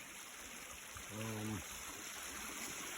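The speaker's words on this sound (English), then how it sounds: "Here's that creek." A small creek leading up to a beaver pond flows with a steady, soft rushing murmur close by. A brief low tonal sound interrupts the water once, near the middle.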